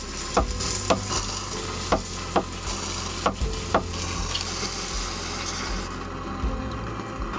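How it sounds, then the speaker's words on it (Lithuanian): Sliced champignon mushrooms fry with chicken and onions in a hot pan at a hunters' lodge, a steady close sizzle broken by a few sharp knocks of stirring, with no talk. "Šampinjonus susipjaustam įmetam."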